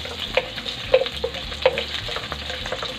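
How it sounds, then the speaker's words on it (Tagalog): Ginger sizzling in hot oil in a pan for a spicy coconut-milk yellowfin tuna dish, with a steady fry hiss punctuated by several soft clinks and scrapes of stirring. "Ngayon, manggigisa na tayo. Yan, unahin natin yung luya para magbigay ng aroma."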